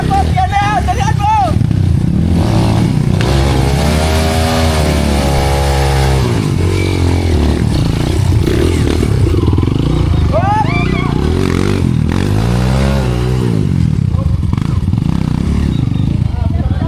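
A motorcycle engine revs up and down in rising and falling sweeps, loud and close, at an enduro time trial, with people talking over it throughout.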